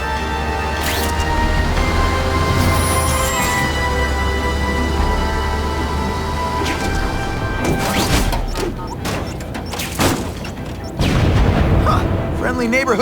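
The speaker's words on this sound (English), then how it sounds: "Huh, friendly neighborhood fireworks." Fireworks burst in The Amazing Spider-Man 2 video game as a string of sharp booms and crackles in the second half, over a bed of game music and ambience, with voices speaking.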